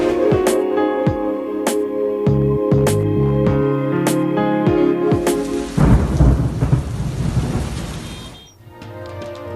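A thunderstorm with loud rolling thunder and heavy rain pounding on surfaces, the crashes and downpour close and dominant throughout, with no talk.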